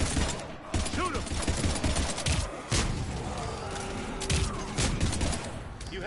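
Gunfire in the video game Mass Effect 3 Legendary Edition, loud dense bursts of rapid shots and thuds running almost without pause, with game voices shouting over the battle.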